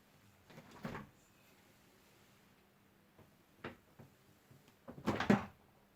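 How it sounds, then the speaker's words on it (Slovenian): Refrigerator door being opened, heard as a few separate soft thumps and clunks close by, the loudest near the end, with quiet room tone in between. "Kaj pa, če odprem vrata hladilnika?"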